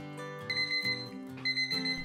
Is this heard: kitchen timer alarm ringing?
yes